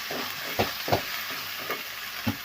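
Ginger garlic paste and turmeric sizzle in a hot oiled pan as a spoon stirs them, a steady frying hiss broken by a few soft scraping strokes, close and continuous.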